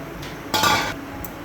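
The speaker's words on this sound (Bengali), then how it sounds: "এই দেখুন মাংসগুলো আমি দিয়ে দেব" Chicken breast pieces go into a pot holding a little water, making one short, bright clattering splash that lasts about half a second against a quiet kitchen background.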